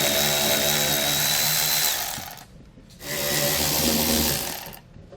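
Power tool driving out 8mm screws from a tray in a 2017 BMW X5, loud, close whirring runs of about two seconds each, stopping briefly between the two bursts.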